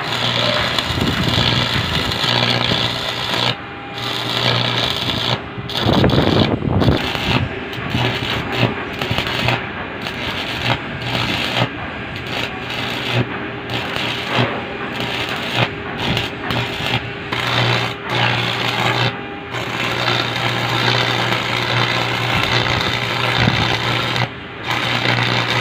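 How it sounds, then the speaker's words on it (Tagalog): Arc welding joins a pipe with a 6011 electrode: a continuous close crackle and buzz, dropping out briefly in short gaps and then resuming, heard alone without voices. "i-full weld na natin gamit ang 6011 na 316 electrode"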